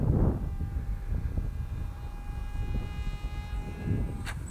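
An RC F16 model plane's electric motor at half throttle, a steady thin whine that holds level under wind rumble throughout, with a brief brighter burst near the end.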